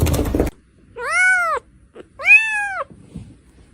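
A cat meows twice, each a loud, clear, drawn-out call with a falling tail, separated by a short pause and preceded by a brief burst of background noise.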